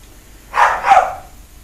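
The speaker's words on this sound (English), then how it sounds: "Oh, now I have dogs barking." Dogs barking outdoors at night, two quick, loud barks in a row with a little yip, close by, followed by quiet.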